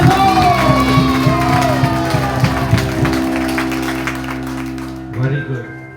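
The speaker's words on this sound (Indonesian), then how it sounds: "Let us all clap for Jesus Christ." A church congregation at an outdoor revival service in a Dairi village claps and cheers together, with whoops mixed in, while a loud voice and sustained tones carry over it; the crowd noise thins out toward the end.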